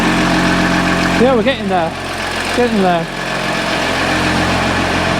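A Jeep Grand Cherokee Summit salvaged from auction idles as a steady, loud engine drone throughout, with people talking over it in the middle.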